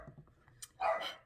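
A dog gives one sharp, fairly loud bark close by, preceded by a few faint low sounds, in an otherwise quiet indoor background.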